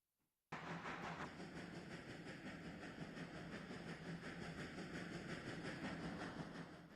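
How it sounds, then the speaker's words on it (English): Steady, loud rumble of train engines running in a railroad video game, a continuous droning mechanical roar with rail clatter that starts abruptly after a brief silence and holds constant throughout. "God, the noise of this engine."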